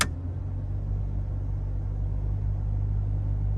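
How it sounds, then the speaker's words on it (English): A 1998 Jeep Cherokee XJ engine idles steadily with its idle raised by an extended idle switch, giving a close, continuous low rumble with a faint pitch in the motor and no voices. "You can hear a pitch in the motor."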